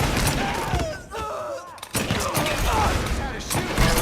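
Gunfire in the video game Mafia 3 crackles in dense, continuous bursts, close and loud, with shouting voices over the shots.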